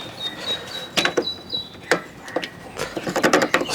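A drive belt is worked over the front and rear pulleys between the tensioners of a Suffolk Super Punch mower, making close, scattered mechanical clicks, rubbing and knocks with brief pauses.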